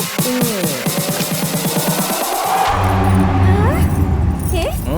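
Keys jangle and scrape in a door lock as someone tries to open it, a rapid metallic rattling that gives way to a car engine and people talking.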